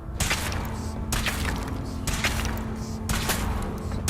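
A weapon fired during a power armor suit test in Fallout 4, heavy repeated bursts of fire in roughly one-second pulses, loud and close, over a steady dense mechanical roar.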